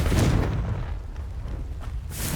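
Confringo fire spell blasts in the Hogwarts Legacy video game, rolling into a dense, continuous rumble of loud, low booms across the whole stretch with no voices.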